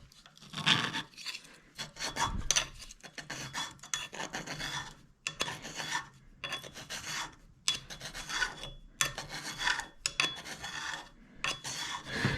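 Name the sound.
hand scraper scraping hard bronze held in a vise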